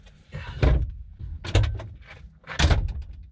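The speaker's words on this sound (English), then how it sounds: "It would help if there was a door check strap holding this door open." The door of a Vauxhall Cavalier thuds and creaks during a rebuild, with three separate bursts of knocking and scraping close by, each swinging or being handled without a check strap, and short quiet gaps between them.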